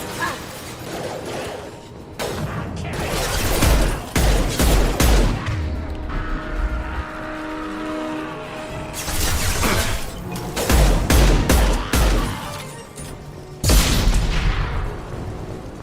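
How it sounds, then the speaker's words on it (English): Gunfire in the video game Mass Effect 2 Legendary Edition: clustered bursts of loud rapid shooting and booming impacts alternate with calmer stretches of game sound. "Lots of shooting, that's always fun."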